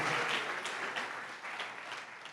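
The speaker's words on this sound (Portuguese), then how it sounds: "Aplauda ele, porque ele é digno." A crowd applauds steadily, a dense wash of many hands clapping together, fairly loud and sustained throughout.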